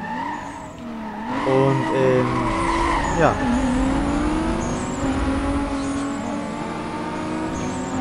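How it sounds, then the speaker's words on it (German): A car with a 3-litre six-cylinder 2JZ engine races in the game Need for Speed Most Wanted, the engine revving and shifting through gears with a sharp tire squeal as it skids, close and loud, with a brief spoken word. "Der 3 Liter 6-Zylinder-Motor, der 2JZ halt."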